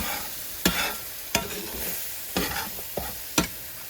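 Milk stirred into boiling gravy, a soft bubbling sizzle punctuated by five sharp scraping strokes of a spoon or whisk against the pan, spaced about a second apart.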